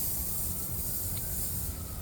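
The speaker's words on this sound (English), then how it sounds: "You're hearing the sound of the sprinklers spraying the grass in the Hart House Circle at U of T" Lawn sprinklers spray the grass of Hart House Circle at the University of Toronto, a steady, unbroken hiss of water with a faint low rumble underneath and no voices.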